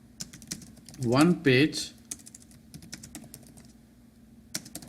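Keys clatter on a computer keyboard as notes are typed, in scattered quick taps before and after a short stretch of speech, then continuing in irregular clicks.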